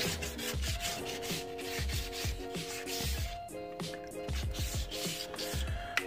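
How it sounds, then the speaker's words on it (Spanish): Dented body tabs on a Mazda RX-7 FC are sanded by hand in repeated rhythmic scraping strokes, steady and close up, with no talk. "Estas pestañas que han tenido golpe, hay que lijarlo, tratar de emparejarlo y pueda quedar muy bien."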